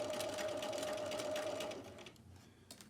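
A sewing machine back-stitches a seam in silk organza, its steady close whir running for about two seconds before stopping, leaving a quiet room with a faint click near the end.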